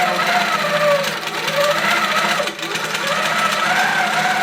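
A Coronet quilting machine stitches a quilt, producing a fast, steady mechanical whir and rapid needle chatter up close, with a brief dip in the motor partway through.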